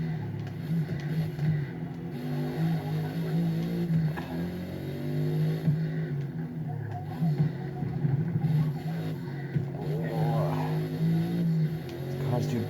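A bulky car racing laps in Forza Motorsport on Xbox Series S, its engine revving and dropping continuously nearby, with tire squeal through corners and a voice talking over it at times.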